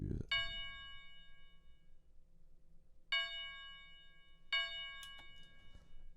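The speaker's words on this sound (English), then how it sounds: "I picked up this bell from one of my drum kits I have" Generic bell sample from a drum kit rings out three times, each a bright metallic strike with a long ringing decay, the first after a short low thump and the later two spaced about a second and a half apart.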